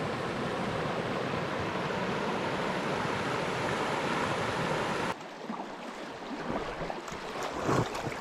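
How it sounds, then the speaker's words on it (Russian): Water rushing through a rocky rapid on the Koiva River, a loud steady broadband roar that fills the first five seconds, then drops to a softer, closer wash and splashing as the boat moves into the rapid. "Вскоре вдалеке уже становится слышен шум воды."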